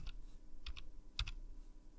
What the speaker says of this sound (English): click the tilde key, which is right below the escape key on your keyboard